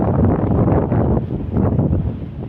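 Strong monsoon wind gusting over the sea near moored fishing boats, a dense, steady low roar with rising and falling buffets lasting throughout, loud and close, with no other clear sounds.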